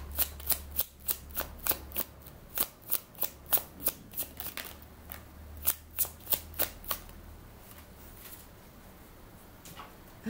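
Tarot cards are shuffled and drawn in a steady run of crisp, close slaps and riffles, roughly two per second, with a low hum underneath and no talking.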